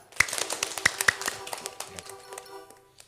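Children clap along during a lively action song, a quick run of sharp claps that starts loud and thins out, with a bright tone lingering underneath.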